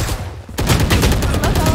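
Rapid automatic gunfire in the video game Valorant, fired through a smoke, starts abruptly after a short quiet lead-in and then keeps going as a dense, loud, continuous volley of close shots.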